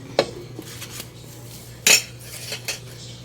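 A lid is set onto a cooking pot of sautéed fermented fish rice (buro) in a home kitchen, giving a sharp metallic clank near the two-second mark, with lighter clinks before and after over a steady low hum.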